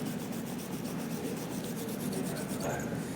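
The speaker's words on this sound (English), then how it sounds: "And then our trusty wire brush." A wire brush scrubs brake hardware during a brake pad installation, giving a steady, close, rapid rasping scrape that continues throughout.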